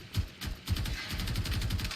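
Kuva Karak assault rifle fire in Warframe comes as bursts of sharp, punchy shots, a few spaced at first and then a steadier rapid stream, loud and close with no talk.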